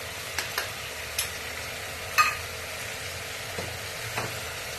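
Ivy gourd curry fries softly in hot oil with a steady low sizzle, broken by a few faint ticks and clinks of stirring spread across the stretch.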